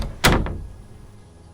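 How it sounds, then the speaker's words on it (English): A single loud door slam with a sharp bang, followed by a short rattle and a fading echo. "then slams the door shut"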